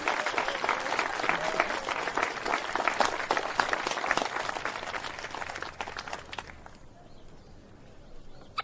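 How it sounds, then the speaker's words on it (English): Enthusiastic audience applause greeting a young prodigy's premiere performance, dense clapping for several seconds that fades out and leaves quiet by the end. "I would ask you to encourage him with thunderous applause"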